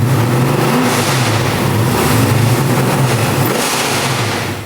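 A 1971 Dodge Charger engine revs hard through a new H-pipe exhaust, a loud, close, sustained roar with a deep rumbling low end, swelling slightly midway and easing off near the end.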